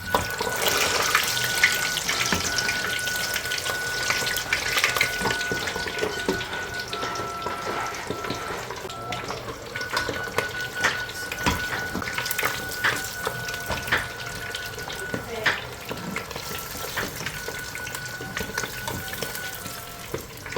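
Crispy pata, a Filipino pork leg, deep-fries in very hot oil with a steady, loud sizzle and crackling bubbling that runs throughout, with faint clinks and scraping over it and no voices.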